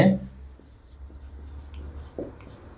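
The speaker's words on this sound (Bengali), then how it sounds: "লিখবো বিক্রিয়াটি লিখবো" A pen or marker writes out a chemical equation for a chemistry lesson, with faint scratchy strokes in short bursts over a steady low hum.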